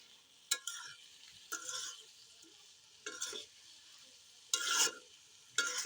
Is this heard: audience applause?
no